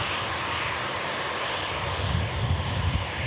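An Embraer E195 jet at Manchester Airport gives a steady, loud broadband engine roar with a low rumble that swells slightly toward the end, with no voices.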